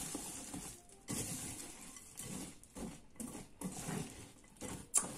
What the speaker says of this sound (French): vous allez rajouter vos céréales à l'intérieur. Vous allez venir mélanger le tout